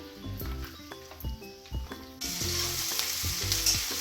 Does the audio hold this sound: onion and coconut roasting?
yes